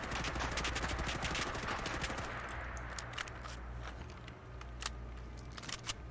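Sustained automatic fire from an OTs-14 Groza bullpup rifle in Fallout 4, a dense rattling stream of shots with a heavy low thump, steady and loud before easing into scattered bursts near the end.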